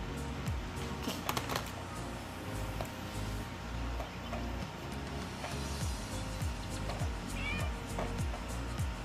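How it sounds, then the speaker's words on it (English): Several house cats meow indoors, short mewing calls that are faint and partly buried under steady background noise and clatter. "Hey, those are my cats."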